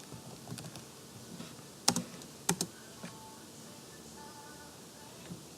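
A computer keyboard is being typed on in a quiet room with a steady hiss: a few sparse keystrokes, two of them sharper double clicks, then faint scattered taps.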